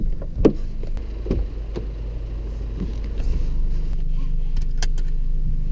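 Citroen C4 Cactus diesel with manual gearbox pulling away, a steady low engine and road rumble building from the cabin, with a few soft knocks and clicks early on.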